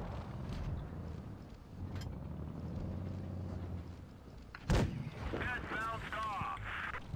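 A tank shell ricochets off armour in World of Tanks Blitz: one sharp, loud metallic crack cuts through steady engine rumble and battle noise while a player talks.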